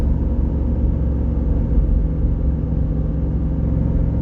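A 2008 Jeep Grand Cherokee cruises along a straightaway at the top of a hill, a loud, steady low engine and road rumble filling the cabin without a break.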